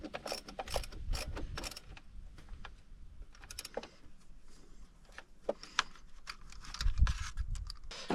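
Ratchet tightening alternator bolts on a Ford Fiesta, close, clicking pawl bursts in short uneven runs with clunks of metal between strokes.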